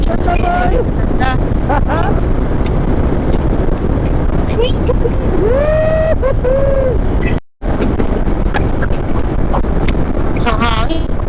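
Wind rushing past the microphone during a long-distance motorcycle ride, a loud, steady broadband roar throughout, with voices and whistle-like tones riding over it and one brief dropout partway through.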